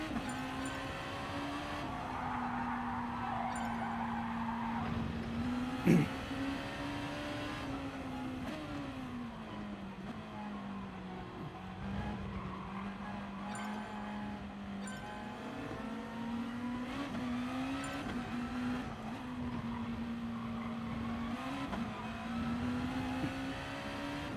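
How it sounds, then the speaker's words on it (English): Lexus race car in Gran Turismo Sport lapping a time trial, its engine a steady sustained drone with gear shifts and pitch dips, loud and continuous throughout with no talk. "Lexus will be a good race car because of tyre wear."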